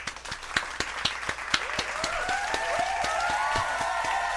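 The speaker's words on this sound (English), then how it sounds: "Can we clap it up one time?" Applause rings out in a podcast studio, starting with a few sharp, evenly spaced claps that swell into a dense, steady round from several people, with a whoop or cheer rising over it.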